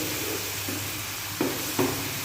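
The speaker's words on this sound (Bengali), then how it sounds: "এবারে একটু হালকা ভেজে নেবেন, যাতে না মশলাটা পুড়ে যায়। সেটা লো হিটে আপনারা ফ্রাই করবেন।" Ground spices frying lightly in oil over low heat for a dhaba-style egg masala, a soft continuous sizzle with a couple of brief stirring scrapes near the end.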